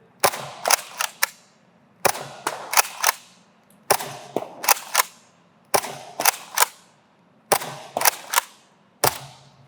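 A NERF N-Series Strikeback blaster fires downrange in quick bursts of three or four sharp snapping shots, each group followed by a short pause, close and loud with no talking.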